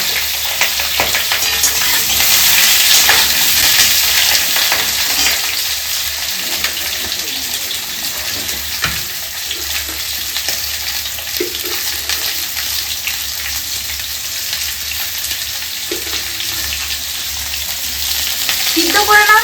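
Potatoes fry in a pan in a home kitchen, giving a steady, close hiss and sizzle that holds through the clip with occasional soft stirring clicks and no talking.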